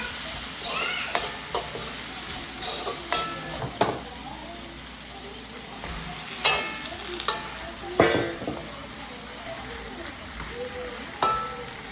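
Sliced onions sizzle and caramelize in a pan for pork bistek, with a steady frying hiss broken by repeated scrapes and clinks of a spatula stirring them.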